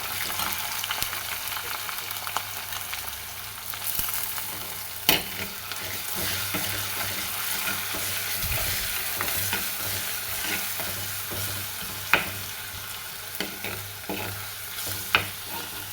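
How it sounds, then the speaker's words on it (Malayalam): Onions with ginger-garlic paste sauté in a pan, giving a soft continuous sizzle with occasional sharp clinks of a spoon against the pan, moderately quiet throughout. "സവാള നല്ല വഴന്ന് വന്നതിന് ശേഷം ഇഞ്ചി വെളുത്തുള്ളി പേസ്റ്റ് ഇട്ട് കൊടുക്കുക"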